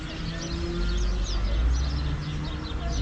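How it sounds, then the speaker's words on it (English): A dense, constant chorus of many starlings chattering and calling at once, a busy, unbroken wash of bird noise at a Mallorca resort setting during the starling migration. "There's a lot of birds making a lot of noise."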